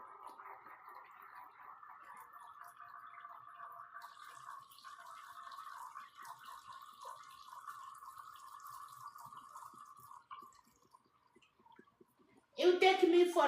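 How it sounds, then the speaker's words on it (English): Water streams slowly from a refrigerator's built-in dispenser in a steady, narrow trickle lasting about ten seconds, close and moderately quiet, before stopping and giving way to a louder clattering sound at the end. "It will take me forever to get the water from my refrigerator."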